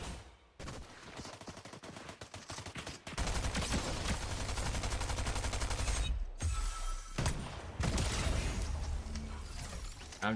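Fortnite gunfire crackles in rapid, loud bursts of automatic shots, broken by brief pauses, with a steady barrage continuing through most of the stretch.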